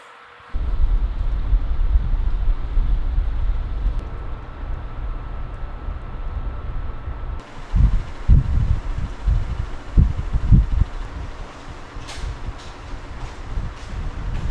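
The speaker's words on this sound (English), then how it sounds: "I took a house fan, pointed at the microphone on the lowest setting" A house fan on its lowest setting blows directly onto a microphone, producing a continuous low rumbling wind roar. Partway through, the roar grows gustier with buffeting thumps.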